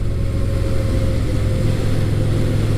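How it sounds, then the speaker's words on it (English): A Yamaha SCR950 motorcycle's V-twin engine rumbles steadily and loudly at low RPM through the stock exhaust, a constant droning tone with no breaks. "I could get some of that V-twin rumble."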